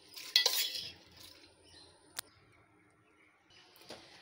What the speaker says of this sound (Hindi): कुकर में दाल को डाल लें।